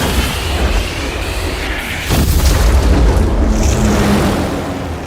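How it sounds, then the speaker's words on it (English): Explosions and missile launches in the film Outbreak, with loud, dense rumbling booms and a roaring blast swelling near the middle, continuous and heavy with no speech over it. "And explosions, missiles being fired."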